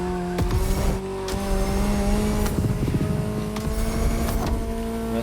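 A Ferrari supercar in The Crew Motorfest racing game revs and drones loudly, its pitch rising and shifting across several gear changes, with brief squeals and thumps mixed in.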